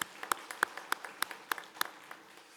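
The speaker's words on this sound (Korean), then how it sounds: "우리 감사의 마음을 담아 큰 박수로 격려해 주시기 바랍니다" Evenly spaced, crisp handclaps in a steady rhythm, fairly close and moderately loud, from a church congregation applauding its choir during a Sunday worship service, with no voices.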